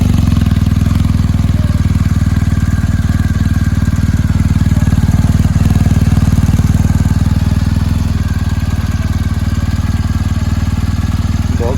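A BMW R 1250 GS with a 1254cc boxer engine idles close by, a loud, steady, low throbbing rumble that holds even throughout.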